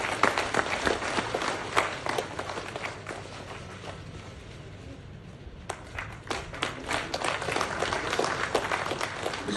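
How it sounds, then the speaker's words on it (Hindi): Applause from a crowd at a commemoration event in Kashmir, scattered and uneven claps that thin out midway and then return, moderately distant and fairly quiet. "जोरदार तालियां प्लीज।"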